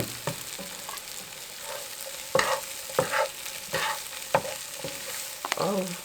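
A spicy Korean side dish stir-fried in a pan with sesame oil, with intermittent scrapes and clacks of stirring over a soft, steady sizzle, fairly close.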